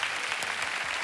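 A Spanish live comedy show audience applauding, dense steady clapping that fills the entire moment at close range.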